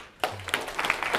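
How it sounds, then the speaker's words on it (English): Clapping from an audience at a university fintech talk on AI in banking, starting abruptly after a brief quiet moment and continuing as a modest, steady patter of hands. "One more round of applause."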